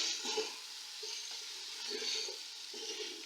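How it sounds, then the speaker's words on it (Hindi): Ginger and garlic paste frying in a pan, a steady soft sizzle with gentle stirring scrapes every second or so, close and fairly quiet. "तो भी मैं इसके साथ ही फ्राई कर लूँगी"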